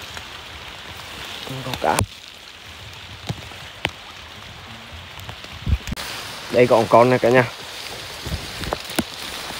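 Rain patters steadily on a cramped shelter during a night fishing trip, a soft continuous hiss under the scene while people talk in Vietnamese and a few sharp knocks and handling sounds break through.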